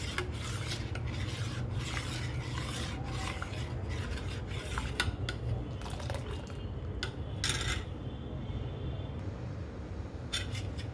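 A spoon scrapes and stirs steadily around a pot of curdling milk, mixed with a little yogurt on a gas stove to make paneer, producing repeated rasping strokes over a low background hum.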